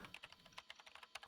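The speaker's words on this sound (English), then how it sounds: "The only sound reverberating through the room was that of somebody tapping on a keyboard." Light, quick tapping on a computer keyboard in an irregular flurry of soft clicks, faint and close, with no voices.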